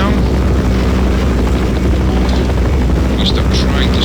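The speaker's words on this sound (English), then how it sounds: "let's stop the helicopter right now" A Blackhawk helicopter in Counter-Strike: Source, loud and constant rotor drone with deep thumping throughout, while a person talks over it.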